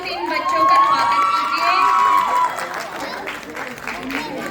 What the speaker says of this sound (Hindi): जोरदार तालियों से इन बच्चों का स्वागत